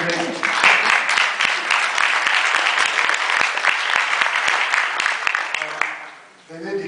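An audience claps at an author interview with a novelist, a steady crackle of many hands that fades out toward the end, with a voice briefly speaking.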